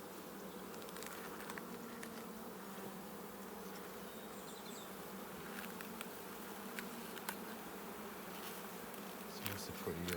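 Honey bees buzz around an open beehive during a Norfolk beekeeping inspection, a dense, continuous drone of many insects close by, with occasional faint handling knocks.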